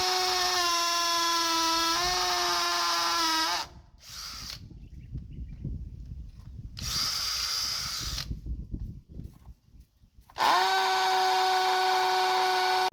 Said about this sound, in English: Once done with the drilling